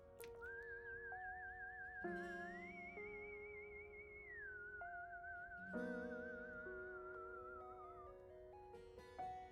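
Whistled tune in the video game Date Everything, a clear, wavering melody with sustained notes over soft game music, steady and moderately loud with no voices.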